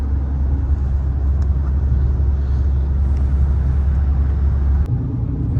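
A car travels at about 106 km/h across the Atal Setu sea bridge, heard from inside as a loud, steady low road rumble with a brief dip near the end.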